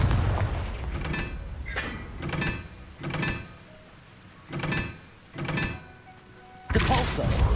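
Repeated blasting spells in Hogwarts Legacy, about eight fiery bursts in an uneven rhythm, each a sharp, loud burst with a short rumble, ending in a bigger blast.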